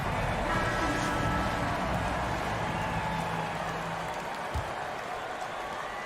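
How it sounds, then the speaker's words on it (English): Crowd applause and ambient noise at an NBA basketball broadcast of the Suns versus the Clippers, a steady dense wash of clapping with faint voices mixed in. "Please give a big round of applause"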